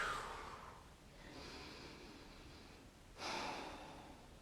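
Two breathy, airy exhales during a pelvic floor stretch at a wall, the second stronger and louder, close and quiet, with no talk.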